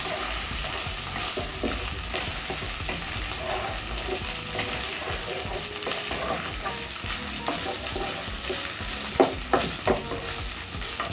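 Pork frying in a pan while being stirred around to crisp up, a constant close sizzle with intermittent scraping and clinking of the utensil, a few sharper knocks near the end.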